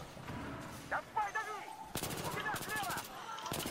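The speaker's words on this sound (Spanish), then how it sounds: "te he disparado 50 tiros" Bursts of rapid gunfire in Battlefield 3 crackle, with sharp shots and a fast automatic volley in the second half, mixed with game effects.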